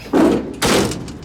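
The door of a 1963 Chrysler 300 under restoration thuds shut twice in quick succession, two close, loud heavy bangs with a short rattle after each.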